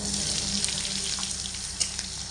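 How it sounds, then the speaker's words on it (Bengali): Thick-cut onions with a pinch of black cumin and whole cumin seeds frying in hot oil over low heat, giving a steady, close sizzle throughout with faint stirring scrapes. "এই পেঁয়াজগুলোকে এক মিনিট মতো হালকা আঁচে নাড়াচাড়া করে ভেজে নিচ্ছি"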